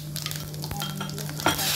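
Cumin and mustard seeds hitting hot oil in a kadhai, crackling and sizzling with a few sharp pops and a light scrape of stirring, close and continuous, no voices.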